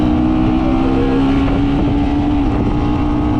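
A 2025 KTM Duke 125 motorcycle engine idles and revs steadily nearby, a throaty continuous drone with slight wind noise.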